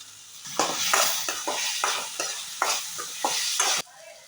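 Tomato and capsicum fry in a pan while a spoon stirs them in about eight brisk, rhythmic scraping strokes over a close, loud sizzle, with no talking.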